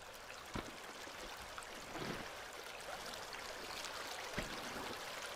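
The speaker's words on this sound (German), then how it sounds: "Wir sind wieder am Bach." A stream flows in the horror video game Inunaki Tunnel, a faint, steady babbling wash of water with a few soft thuds and no voices.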